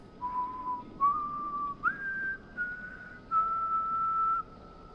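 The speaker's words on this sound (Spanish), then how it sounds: "Otra vez en el silbidito" A character in the horror game House of Ashes whistles a slow tune, a few clear sustained notes rising and holding, with faint ambience underneath and no speech.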